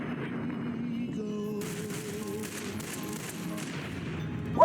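Gunfire in the video game Fallout New Vegas, a steady rumbling fusillade that runs through the whole stretch at moderate level, ending with a sharp louder burst.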